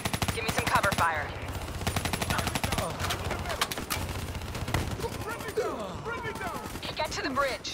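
Rapid automatic gunfire from Call of Duty Black Ops 3, with dense bursts of shots rattling almost without pause, loud and close, while voices shout over the firing.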